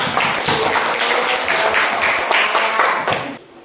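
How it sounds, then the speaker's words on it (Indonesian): A class of students in an Indonesian classroom applauds after a role-play activity, with dense, steady clapping from many hands that fills the room at close range and fades out near the end. "mari kita berikan tepuk tangan"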